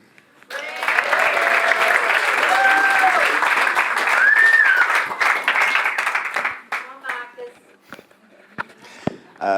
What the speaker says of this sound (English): Let's have a big round of applause for Mark.